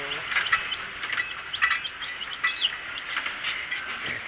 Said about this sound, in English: 7 chicks. One of them is trying to fly away, but they are so cute.